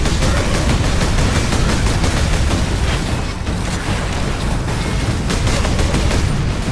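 Relentless heavy gunfire and explosions in the Space Marine video game battle against orks: a loud, continuous wall of rapid shots and booms with no pause for nearly seven seconds.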